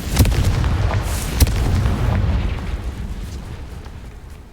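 Confringo spell explosion in a video game: a sharp blast followed by a deep rumbling boom that slowly decays, with a second crack partway through.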